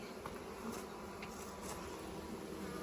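Honeybees buzzing around the front of a beehive, a faint continuous droning hum with occasional individual bees passing closer.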